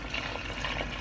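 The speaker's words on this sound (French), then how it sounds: "on va rajouter de l'eau dans notre casserole" Water poured into a cooking pot for stewing beef with plantains, a steady close rushing fill lasting about a second.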